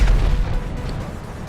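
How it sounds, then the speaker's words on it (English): A heavy explosion in modded, ultra-realistic GTA 5, with a loud low rumbling boom from the start that slowly decays over a second and a half of lingering roar. "See what I mean about the explosions?"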